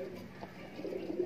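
An injured pigeon gives a soft, low cooing, faint and brief, against quiet background noise.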